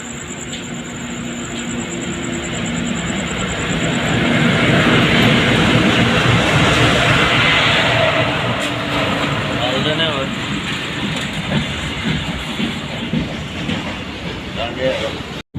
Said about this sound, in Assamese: মাল ট্ৰেইন হ'ব নেকি এখন?